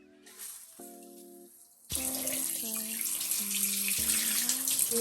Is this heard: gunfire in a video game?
no